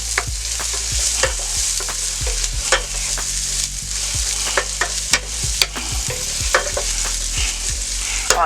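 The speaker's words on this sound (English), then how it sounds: "Put my onions in here with a little bit of vegetable oil. We're going to get those going real good." Onions sauteing in vegetable oil in a pan on a stovetop, a steady close sizzle broken by frequent sharp scraping knocks of a spoon stirring, no talking.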